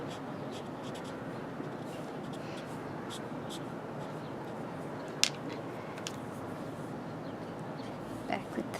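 Marker strokes rubbing across paper in an ongoing drawing session, a steady soft scratchy texture throughout with occasional sharper ticks and taps, close up and fairly quiet.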